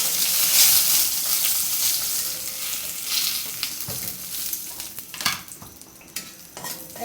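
Two dried red chilies and torn bay leaves sizzling in hot oil for a Bengali potato curry, a loud hissing crackle that settles into a steady fry, broken by a few sharp spatters and spoon scrapes.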